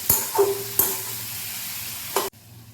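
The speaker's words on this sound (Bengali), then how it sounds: "একেবারে সুন্দর করে আলুর সাথে টমেটোটা কষিয়ে নিতে হবে" Potatoes and tomatoes sautéing in a pan for a vegetarian drumstick-flower dish: a few sharp spatula scrapes and clacks over a low sizzle, ending abruptly into quiet.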